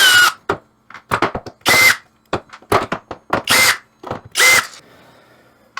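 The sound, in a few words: power drill removing screws from arcade control deck joystick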